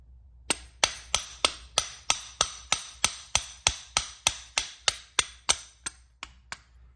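A hammer strikes metal in a steady, evenly spaced series of about seventeen sharp, ringing blows on a rust-seized brake pin, close by and loud, with no talking.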